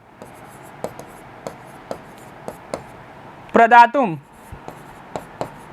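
Handwriting, a pen tapping and scratching on paper as answers are written, with regular soft ticks spaced about half a second apart and a voice speaking briefly in the middle.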